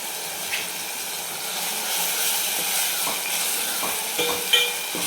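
Tempering spices with half a spoon of red chilli powder sizzle in a pan in a home kitchen, a soft continuous crackle with a few light utensil taps and scrapes as the mixture is stirred.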